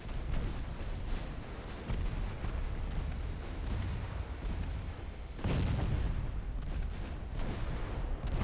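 Naval guns fire in the battleship game Ultimate Admiral: Dreadnoughts during a battle off Gibraltar. Heavy, rumbling artillery booms roll continuously, with a sharper, louder salvo partway through, and no talk over them.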